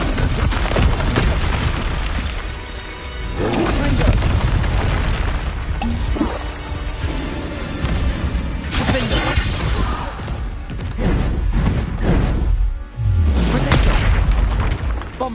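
Repeated Bombarda spell blasts from Hogwarts Legacy, loud booming explosions with shattering crashes, firing in quick succession across the whole stretch with barely a pause and scattered bursts of magical impact.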